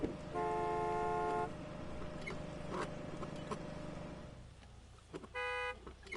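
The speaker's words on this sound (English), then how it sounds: "I said, don't honk at me." A car horn in Gas Station Simulator blares in two bursts, one long sustained honk and a shorter one a few seconds later, over a steady engine-like game background.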